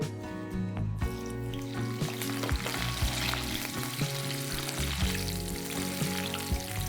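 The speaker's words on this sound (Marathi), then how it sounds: "आता ह्या मिरच्या आपण तळून घेऊ" Whole green chilies frying in hot oil, a steady close sizzle and crackle with bursts of popping spattering throughout, no voices.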